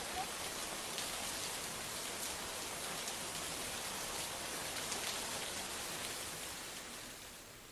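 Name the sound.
heavy cloudburst-like rain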